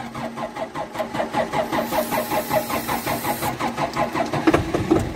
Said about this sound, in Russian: как дизель заводится